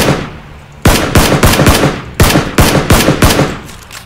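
Video game gunfire in PUBG: a sharp opening burst followed by rapid, loud, evenly spaced shots fired in quick volleys, close and alone with no talk.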